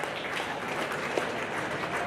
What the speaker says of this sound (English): Let's give your Market Lamb exhibitors a big round of applause as